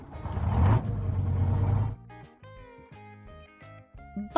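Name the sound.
bus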